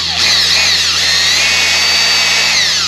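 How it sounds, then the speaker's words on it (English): A power drill bores a clearance hole in boat deck gear mounting: a loud, close, steady whine that spins up sharply at the start and holds a constant pitch to the end, alone. "Let's drill a clearance hole first."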